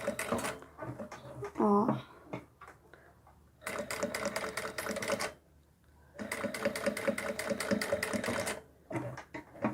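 Domestic sewing machine stitching a rag doll's dress: two long bursts of steady, rapid needle clatter separated by pauses, with someone talking quietly before and between the runs.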